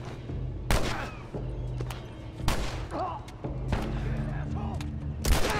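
Gunfire in The Last of Us Remastered: several sharp, loud shots and thuds spaced irregularly through the combat, with a voice speaking and exclaiming between them.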